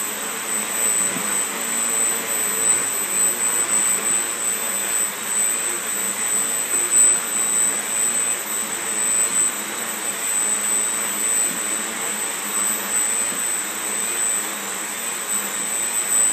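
Quadcopter motors whine steadily under increased throttle on a stability test rig, a loud, continuous high-pitched buzz that keeps going with slight wavering and no speech.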